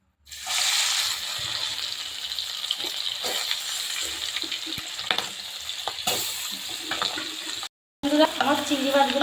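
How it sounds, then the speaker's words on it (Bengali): Steady, loud sizzling of prawns frying in hot oil, with occasional stirring scrapes, a brief drop to silence near the end, then sizzling resumes. "আলুটাও ভেজে নিয়েছি আর চিংড়িটাও ওই তেলের মধ্যে ভেজে নেবো"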